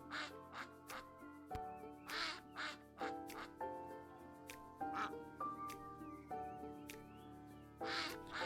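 A duck in a video game quacks repeatedly in short, nasal bursts alongside bright game music and effects, moderately loud throughout.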